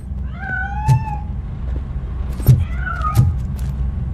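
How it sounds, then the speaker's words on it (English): A cat meows in the RoboCop: Rogue City video game, several rising and falling mewing calls spread across a few seconds over a low rumbling game ambience. "That cat must be hiding inside."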